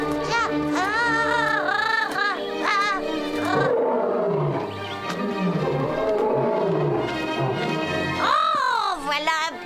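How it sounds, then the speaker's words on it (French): A lion roars loudly and up close, a long, harmonic, groaning roar that rises and falls over several seconds, joined by a voice speaking. "Oh, voilà un beau rugissement."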